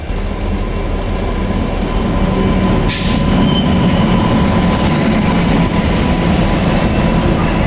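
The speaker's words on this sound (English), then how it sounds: "So this is our train coming." A passenger train in India rolls into a station with a steady heavy rumble and rattling wheels, loud and close, with faint metallic squeals over the continuous roar.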